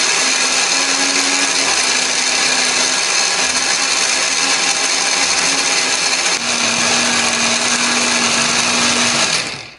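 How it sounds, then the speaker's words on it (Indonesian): Electric kitchen blender grinding chopped spice ingredients with added water or oil into a paste for an Indonesian chicken dish. The motor whirs loud and continuous at close range, alone and unbroken for nearly ten seconds. "Nah, ini biar lebih gampang untuk blendernya."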